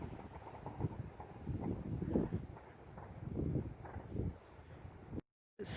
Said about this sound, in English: It's just a little windy.